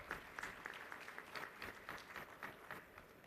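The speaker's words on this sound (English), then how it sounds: "Please give him a big round of applause." Audience applause at a university convocation ceremony, a steady patter of many hands clapping, fairly faint and distant throughout.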